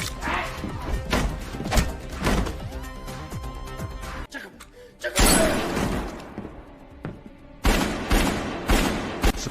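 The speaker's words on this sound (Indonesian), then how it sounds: "tiba-tiba Kang ditembaki oleh mantan anggota SAS itu" Gunfire erupts in an action film scene, sharp repeated shots and thuds in rapid bursts with brief pauses, mixed with crashes and a low film soundtrack.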